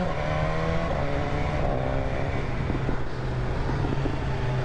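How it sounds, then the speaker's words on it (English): A stock BMW S1000R motorcycle rides along with its exhaust droning steadily, a dense continuous engine roar with small shifts in pitch, recorded close amid wind rush. "the exhaust sounds so nice for stock"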